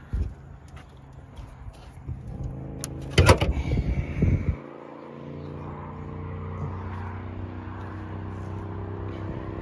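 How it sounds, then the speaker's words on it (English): A GMC Sierra 1500 pickup's hood being lowered and shut: a few light clicks and rattles, then a solid thud with brief clatter, followed by quiet background hum. "let me try to close the hood"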